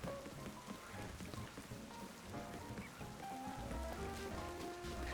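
Steady rain in the video game Pokemon Z-A, a dense continuous patter of drops on surfaces with no voices, holding an even level throughout.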